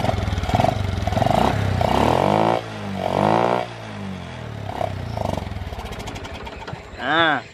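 An Indonesian motorcycle with a fault that makes it stall every hundred metres is started and revved, its engine chugging and rising in pitch in uneven bursts before dropping back, close by, with a voice speaking briefly near the end.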